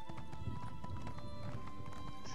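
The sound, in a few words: horse galloping in video game The Elder Scrolls Online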